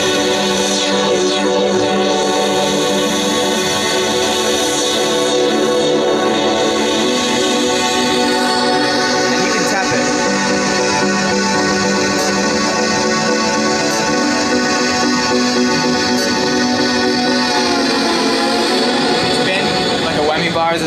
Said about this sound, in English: So I can move this ball around to control the filter, frequency cutoff, and filter resonance.